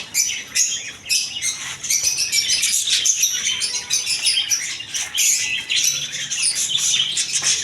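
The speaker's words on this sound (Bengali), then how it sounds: "তার দিকে আছে বাজরিকা পাখি" A flock of budgerigars chirping and squawking busily, overlapping high chatter that continues without pause, close and fairly loud.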